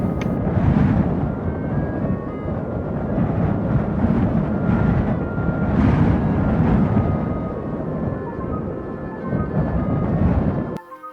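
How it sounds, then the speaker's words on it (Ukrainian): A steady, low roar of winter wind gusting continuously through a forest, swelling and easing slightly, with no other distinct sounds. "Ось це звук зимового вітру в лісі."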